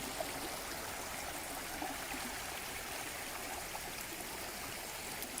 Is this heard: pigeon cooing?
no